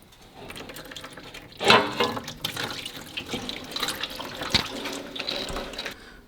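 Red transmission fluid gushes from a 700R4 automatic transmission pan on a 1991 Firebird, a steady close splashing pour that surges loudly near the start and keeps running with no talk.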